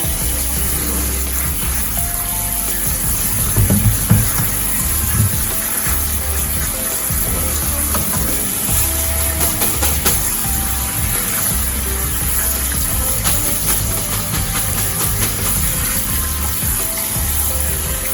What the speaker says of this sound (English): as soon as I drain my noodles, I always just run them under cold water.